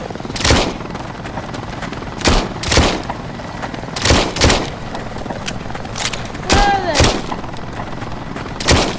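Video game gunfire rings out in repeated loud bursts of shots, some in quick pairs, over a steady background hum, with a brief voice in the middle.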